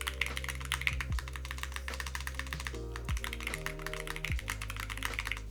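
Rapid, close typing on a Ducky One Mini keyboard fitted with black PBT keycaps: a dense, steady stream of crisp key clacks that runs without a break over a faint low hum.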